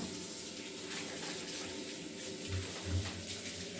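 Hot water runs steadily from a household tap, a continuous broadband hiss that stays even throughout, with a faint low hum underneath.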